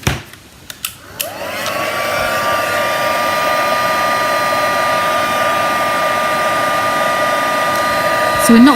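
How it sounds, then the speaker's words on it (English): A heat gun blows steadily while warming embossing powder on a paper floral craft project, a loud continuous whirring roar with a whine, starting after a few brief knocks and running unbroken to the end. "then we'll bring the heat gun back"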